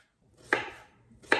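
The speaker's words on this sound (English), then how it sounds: "I'm just gonna cut it into slices and then cube them" A knife cuts half an apple on a cutting board, giving two sharp, close chops about 0.8 seconds apart, each with a short crisp tail, in an otherwise quiet space.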